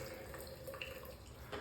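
Tap water runs steadily into a sink to rinse a straight razor during a wet shave, a close, continuous splashing hiss with no talking.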